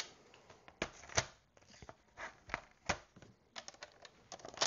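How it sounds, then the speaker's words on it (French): A paper trimmer (massicot) slicing through paper for a scrapbook album page, heard as a run of short, crisp cutting and rustling strokes at an uneven rhythm, close and fairly quiet. "Je reprends mon massicot."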